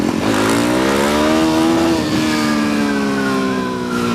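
A 2015 Suzuki DRZ400SM motorcycle engine revs up under acceleration in first gear, loud and close, its single-cylinder note rising steadily and then holding near the end, with no talk.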